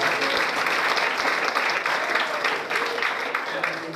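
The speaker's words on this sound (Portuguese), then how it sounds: "Receba com palmas de vitória para Jesus." A church congregation at a unified gathering of the Deus é Amor church claps together in a dense, sustained burst of applause, a close and steady roar with faint voices mixed in.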